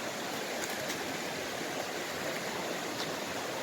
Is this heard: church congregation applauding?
no